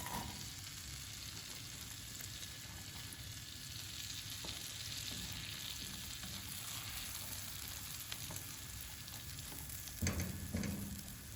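Onions fry in a pan of oil and butter, a constant soft sizzle with a low background hum and a few stirring knocks toward the end.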